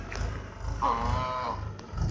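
A single large dairy cow moos once in a short, drawn-out call, close by, with faint background noise around it.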